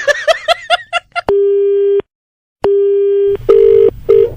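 A telephone line gives a steady dial tone, drops out, returns, then switches to short repeating busy-signal beeps, loud and close, after a burst of voices talking at the start.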